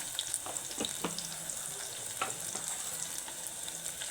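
Cumin seeds fry in hot oil for a spicy mutton fry, giving a steady close sizzle with a few scattered crackles and light stirring scrapes, and no voices.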